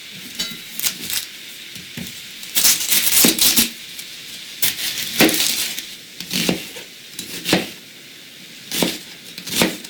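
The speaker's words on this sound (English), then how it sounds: "I'm going to go ahead and start cutting up my onion" An onion being chopped with a knife, a series of crisp, irregular cutting taps and scrapes on a board, fairly close, some in quick clusters, alongside a faint sizzle from a pan.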